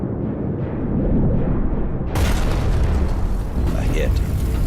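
A torpedo strikes an oil tanker loaded with 65,000 barrels of oil at night, and the explosion roars as a deep, sustained rumble, swelling into a louder, broader blast partway through.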